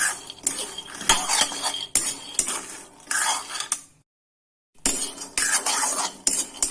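A utensil scrapes and clatters repeatedly against a pan as dry ingredients are stirred while dry-roasting, with a brief silent pause midway.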